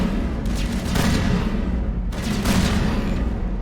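Gunfire from the Mass Effect 1 video game, with two loud, sharp bursts about a second and a half apart and a heavy rumbling bed of combat noise in between.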